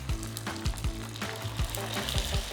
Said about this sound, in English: We are frying the tofu first